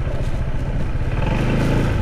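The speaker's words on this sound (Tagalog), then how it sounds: "Yan ang motor." Motorcycle engine idling and revving close by, a loud low chugging pulse with clatter, rising toward the end, no voices.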